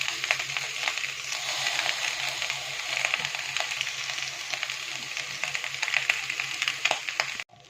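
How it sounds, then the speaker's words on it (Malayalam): Cooked rice being stirred in a hot pan with lemon juice, a steady close sizzle and frying crackle running throughout with soft scraping stir sounds, no voices. "നമ്മൾ വേവിച്ച് വെച്ചിരിക്കുന്ന റൈസ് അതിലേക്ക് ഇട്ട് കൊടുത്ത് ഇളക്കി കൊടുക്കുക."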